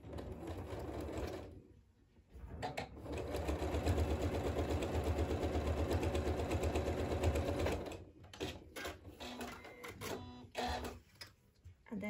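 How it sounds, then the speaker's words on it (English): Sewing machine stitching a quarter-inch seam along a quilt strip, a close, steady whirring run through the middle, with short stop-start bursts and brief clicks before and after. "And this time I'm going to sew all the way along"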